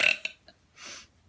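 A burp during a burping contest: a short, loud, rough belch at the start, followed by a faint click and a soft breathy noise, heard close with no talking.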